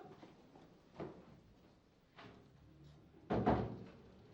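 An indoor door is opened during a power cut, heard as a few muffled thuds that end in one louder, close knock-like bang in an otherwise quiet room.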